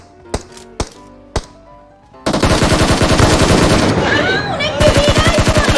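Gunfire in the mobile game PUBG Mobile: three sharp isolated shots, a brief pause, then a loud sustained burst of rapid automatic fire with slight variations in rhythm, close and dominant.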